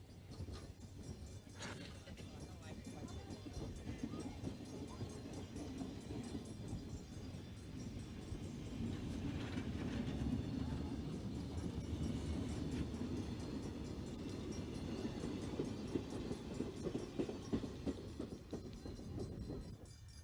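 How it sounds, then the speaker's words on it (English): Conrail eastbound freight train led by two aging GE C30-7 diesel locomotives, a steady, loud rumble of engines and rolling cars sustained throughout, with faint clatter near the start. "Older GEs appear on Conrail freights, such as this eastbound powered by two aging C-30-7s."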